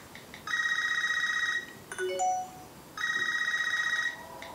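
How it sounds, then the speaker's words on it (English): A classic home telephone rings in a horror movie trailer, two bursts of electronic trilling ring separated by a short gap with brief sliding tones, fairly clear over a faint background. "That classic phone that nobody uses no more."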